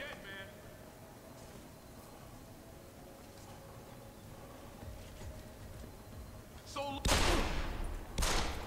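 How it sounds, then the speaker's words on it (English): Gunshots in Deus Ex: Human Revolution, a sharp loud burst of shots near the end following a quieter stretch with faint background noise and distant pops. "I've shot you three times already."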